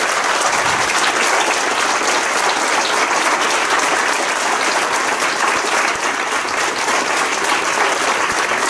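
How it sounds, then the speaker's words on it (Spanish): Loud, sustained applause from a large crowd fills a formal Costa Rican state ceremony marking seventy years since the army's abolition, the clapping dense and unbroken for nearly nine seconds. "Un fuerte aplauso, por favor."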